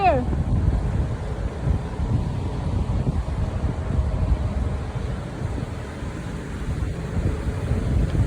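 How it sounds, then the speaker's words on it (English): Breezy wind blows outdoors near a flock of pigeons, a constant rough rumble buffeting the microphone throughout. "today is a breezy day. Really, really breezy."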